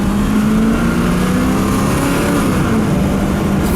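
A lifted Ford F350 XLT 4x4 pickup with a 460 engine accelerates on a road. A steady, loud engine hum rises gradually in pitch under continuous road and wind noise.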